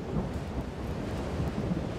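A heavy thunderstorm from an inland cyclone rain depression in Australia, with a dense, continuous wash of pouring rain and low rumbling throughout, no voices.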